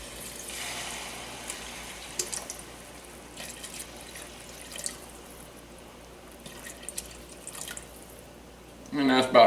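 Water poured into a pot for cooking perlow, a soft steady trickle and splash that runs for several seconds and ends with a louder gush, heard faintly at close range.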